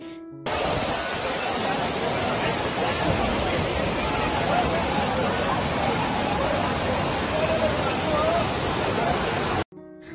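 Dam water at Lonavala overflowing and pouring down cut stone steps makes a steady, loud, full rush of cascading water, continuous and close throughout with no pauses.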